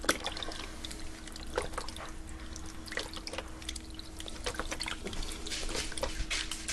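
Good-quality beef stock pours from a box into an electric pressure cooker, a steady liquid splash and trickle with scattered drips, close and moderately loud throughout with no talking.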